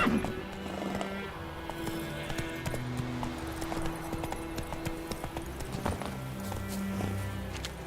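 Horse hooves trotting in The Witcher 3 video game, a steady rhythmic clip-clop running the whole time, close and clear, with a brief spoken command near the start.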